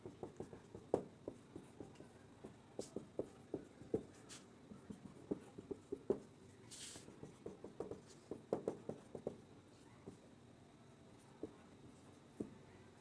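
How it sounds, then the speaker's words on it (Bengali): A pen writes on paper up close, soft irregular scratches and taps in quick bursts, quieter near the end, with faint room hiss behind. "আমি কিছু কম্পাউন্ড লিখছি"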